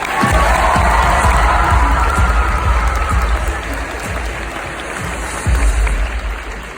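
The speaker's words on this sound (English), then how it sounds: "Let's have another round of applause for Richard Hyde." A convention audience gives a presenter a loud, sustained round of applause with cheering, filling the room at close range before gradually easing slightly.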